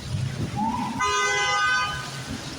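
A car horn gives one sustained, blaring honk at a pedestrian who was nearly hit, loud and close, with traffic rumble and a brief voice just before it.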